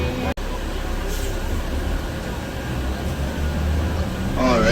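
A tour bus on the Columbia Icefield drives with a constant low engine drone and road rumble that fills the cabin, a broad steady hum that grows slightly louder near the end, with voices faintly present.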